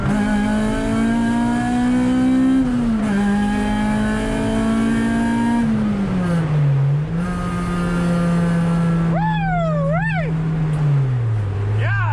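An Acura RSX Base with an all-motor build accelerates hard toward 60 mph, its engine note climbing steadily through the gears with brief dips at each shift, loud and close from inside the car.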